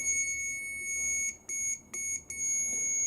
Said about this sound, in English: And we've got the circuit beeper going.